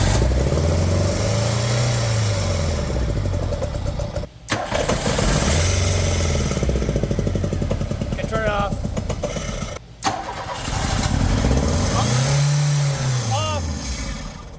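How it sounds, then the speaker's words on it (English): A VW MK2 GTI with CIS fuel injection runs under test, its engine cranking and revving in repeated rising-and-falling swells, cutting out briefly twice before catching again, close and loud with occasional voice in the background. "I can at least drive the car, or run the car to test the thing."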